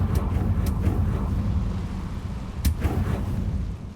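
A Confringo fire-blast spell goes off in Hogwarts Legacy as two short, sharp bursts over a steady low rumble, the second blast louder.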